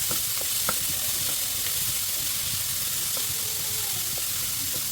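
Bitter gourd stir-fry being stirred in a pan on the stove, a steady frying sizzle with repeated soft scraping strokes of the spoon running throughout, close and alone without talk.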